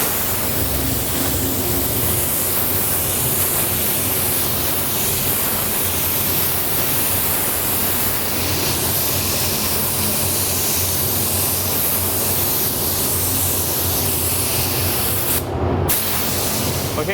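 A spray gun lays down the first coat of candy paint, giving a steady, continuous close hiss that runs almost unbroken, with one brief pause near the end.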